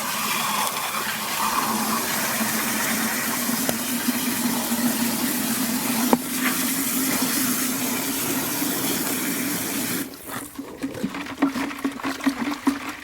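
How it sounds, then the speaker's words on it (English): Rocks and sand churning and scraping against the bottom of a bucket of water as it is stirred, a steady sloshing gush for about ten seconds before it thins into quieter, uneven swirling. "that is actually the rocks and sand that are at the bottom of my container"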